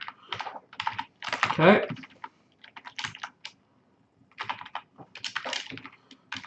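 Someone types on a computer keyboard in irregular bursts of quick clicking taps, close and fairly loud, with short pauses between runs and someone speaking briefly.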